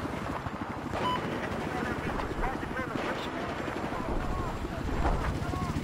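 A helicopter in the military shooter Squad thrums steadily and loudly with rapid rotor chop, wind-like rushing layered over it, while a person talks throughout.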